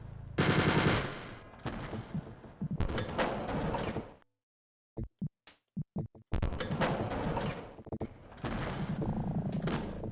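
Gunfire in the Wolfenstein 3D video game, with rapid machine-gun bursts blaring loud and continuous, then a brief silence broken by a few isolated shots before sustained automatic fire resumes.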